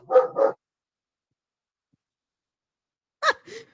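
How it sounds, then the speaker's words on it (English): A dog gives two quick pairs of barks separated by a few seconds of silence, fairly close and sharp. "What is the dog yelling at?"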